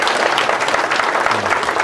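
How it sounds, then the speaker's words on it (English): Audience applause at a talk or lecture event, a dense steady clapping from a crowd that runs loud and unbroken the whole time. "Give him a warm applause"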